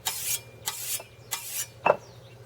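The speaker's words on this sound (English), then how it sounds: "So I'm going to run this coarse edge of the stone across that nice sharp edge there a couple of times." A machete edge is drawn across the coarse side of a sharpening stone in a few separate rasping strokes, close and moderately loud, each a short scraping swipe.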